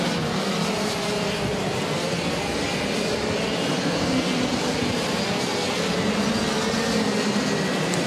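Racing kart engines at a WSK Super Master Series race in Cremona accelerating, a continuous dense buzzing drone of several two-stroke motors heard at a distance over constant broadband noise.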